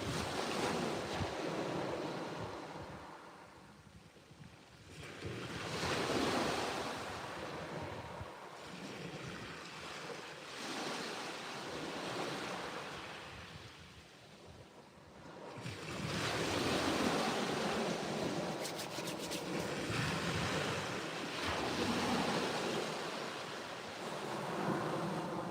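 Ocean waves surge and break at sea during a fishing trip from a boat, with gusting wind buffeting the microphone; the swells rise and fall in long, loud washes without voices.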